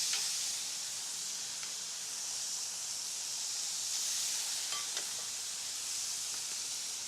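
Thin pieces of meat sizzle steadily over a hot outdoor fire, a continuous even hiss with occasional small pops and crackles, no voices.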